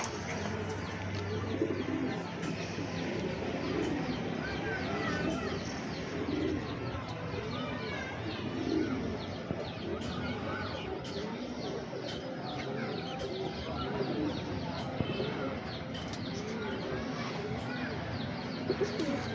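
Top-class Lakha flying pigeons coo in a steady, overlapping murmur, with occasional chirps from other birds, continuous and fairly close throughout.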